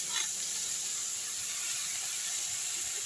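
Amaranth greens sauté in a hot pan, making a steady, fairly quiet hiss with a faint sizzle that holds even throughout, no voices.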